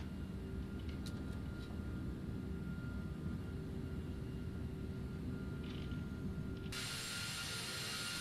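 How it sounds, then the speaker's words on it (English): Landing gear retracts on a Captain Sim 757-300 airliner just after takeoff in Prepar3D v5.3, a faint mechanical whir and clunk beneath a steady engine drone, ending in a sudden bright hiss of airflow. "Gears coming up."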